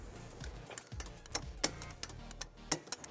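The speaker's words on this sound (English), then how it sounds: "we're going to tighten and torque all of our bolts to the manufacturer specifications" A torque wrench with an 11/16 socket tightens trailer hitch bolts under a 2018 Hyundai Kona, making faint, irregular ratcheting clicks and taps up close with no voices.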